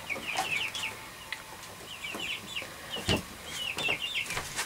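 Broiler chicks loose in a village home after jumping out of their brooder let out repeated bursts of high, close peeping and clucking, with a few sharp knocks and clatters in between.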